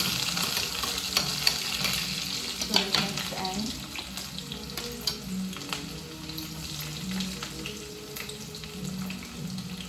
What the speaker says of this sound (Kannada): ಇಲ್ಲಿ ನಾನು 2 ಈರುಳ್ಳಿ ಮತ್ತು 2 ಮೆಣಸಿನ್ಕಾಯಿನ ಹಾಕಿದ್ದೀನಿ. ಅದನ್ನು ಡೀಪಾಗಿ ಫ್ರೈ ಮಾಡಿಕೊಡೋಣ.